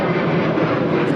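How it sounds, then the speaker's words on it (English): Airplane flying overhead near SeaTac, a continuous loud jet roar filling the whole short moment, with no talking over it. "There goes another plane."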